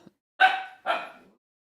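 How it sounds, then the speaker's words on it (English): A puppy barks over a stick: two sharp, close barks in quick succession, with no talking. "Nipsel's got the stick and Almalamas is not happy"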